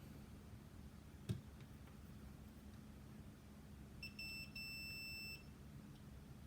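A multimeter in continuity mode beeps while probing ground points on a tiny whoop drone flight controller board, giving one steady electronic tone of about a second and a half over faint room hum, with a brief click just before.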